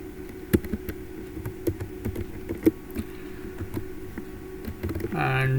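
Computer keyboard typing while writing a Linux kernel module: irregular, quiet key taps at close range, ending in a brief louder rustle.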